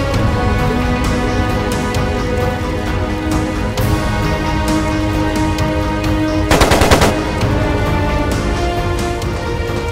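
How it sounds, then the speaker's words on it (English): Loud sustained machine-gun fire in a video game battle, rapid continuous bursts over a dense noisy backdrop, intensifying into a heavier volley partway through, with no talking. "It sounded like a machine gun."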